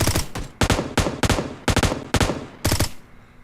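Gunfire from PUBG Mobile: six loud, sharp shots or short bursts spaced about half a second apart, close and dry, with no talking over them.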